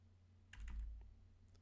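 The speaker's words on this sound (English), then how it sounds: "I'm gonna start saying that I'm typing." A few quick keyboard keystrokes clatter in a short burst while code is being worked on, close and moderately loud over a steady low hum, with no talking.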